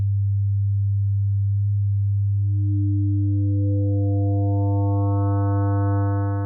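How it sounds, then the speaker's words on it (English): A steady low buzzy synthesized tone of odd harmonics whose upper overtones gradually enter one by one as a low-pass filter sweeps upward, growing brighter, harsher and more dissonant over several seconds. "play all the odd harmonics and take this low-pass filter and just slowly sweep it up the spectrum"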